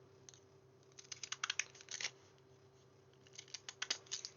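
Quick bursts of scissor snips cutting through card to make a slimline panel card come close up in two clusters, separated by a brief pause, with no talking.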